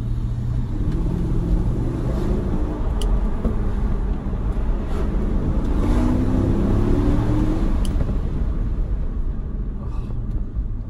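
Mercedes CL500 V8 on the move, a loud close engine rumble that swells through a couple of gentle revs amid steady road and tyre noise, a few light clicks, and no voices.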